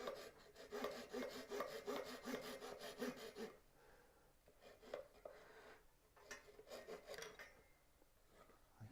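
A hand saw cuts off a small piece of wood for a box hinge with rapid, steady back-and-forth strokes for a few seconds, then softer scattered scraping and rubbing follows.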